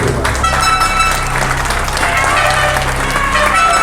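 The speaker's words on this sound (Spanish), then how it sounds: "Un voto de aplauso, mi padre." A crowd at a political campaign launch event applauds a priest after a prayer, dense steady clapping filling the room throughout with a faint voice underneath.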